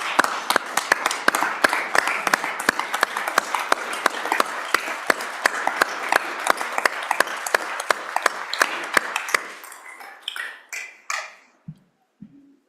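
Sustained applause fills the Senate chamber for the Revenue Committee chairman, dense clapping for about nine seconds that then breaks up into a few scattered claps and fades out.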